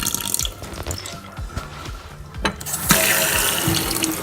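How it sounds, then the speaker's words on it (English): Soaked wheat berries rinsed under a running kitchen tap, water splashing and draining into a sink with drips and rattling, the flow growing louder and fuller toward the end. "we're going to go ahead and drain and rinse these off"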